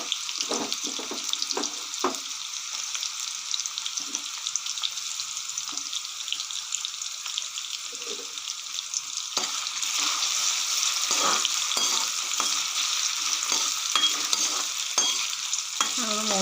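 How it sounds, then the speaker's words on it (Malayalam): Chopped ginger fries in hot oil with a steady bright sizzle, broken by scraping stirs and clinks near the start and growing louder and busier in the second half, with no one speaking. "അപ്പോൾ നമുക്കിതിലേക്ക് ഇഞ്ചി ഇട്ട് മൂപ്പിച്ചെടുക്കണം"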